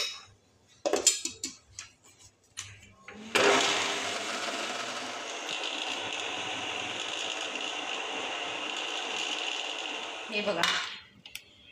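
A kitchen grinder blends peanuts into peanut butter, with a few clattering handling knocks before it starts, then a loud, steady motor whine running for about seven seconds and cutting off, followed by more clatter.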